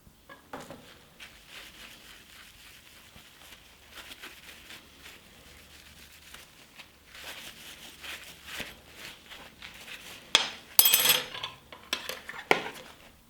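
A metal spoon scrubbed with a homemade wood-ash scouring cream gives soft, irregular rubbing and light clinks, faint and close. The scrubbing builds toward sharper metallic scrapes and taps near the end, with no talking.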